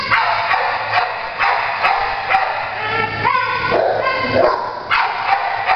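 A shelter dog gives short yips and barks, then drawn-out whimpers and whines, loud and close over a low steady hum.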